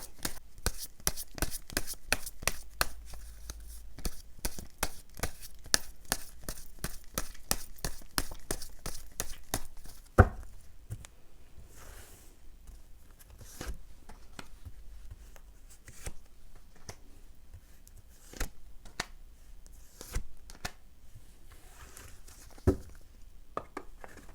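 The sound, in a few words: tarot cards being shuffled and drawn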